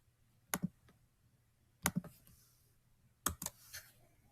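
A computer keyboard is clicked in three separate short bursts of two or three keystrokes each, close and fairly quiet against a faint background hum.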